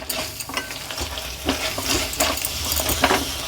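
Cashews and grated coconut fry in a pan on a stove, sizzling continuously while a spoon stirs and scrapes in bursts, close and fairly loud, with no speech.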